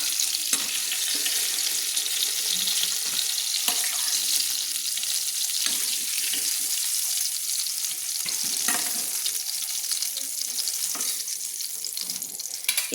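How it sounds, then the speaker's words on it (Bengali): Winter vegetables such as kohlrabi fry in hot oil in a wok for vegetable khichuri, giving a steady, dense sizzle throughout with occasional faint stirring clicks and no talking. "এইভাবে আমি সবজিগুলো পরপর সবজিগুলো এক এক করে আমি ভেজে নিচ্ছি"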